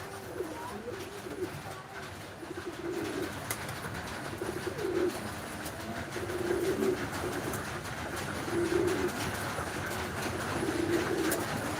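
Pigeons coo in a low, rolling rhythm, with repeated bursts recurring every couple of seconds at moderate distance over steady background noise.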